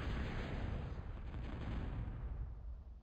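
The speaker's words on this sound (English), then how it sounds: "Nice bombing by Venom here" Bombs dropped by a bomber in a Gasplant Plain online video game match make a loud, continuous rumbling barrage of overlapping blasts that fades slightly toward the end, with no talking.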